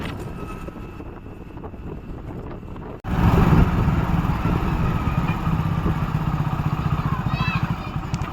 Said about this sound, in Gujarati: તમે જોઈ શકો છો બાઇક ચલાવું છું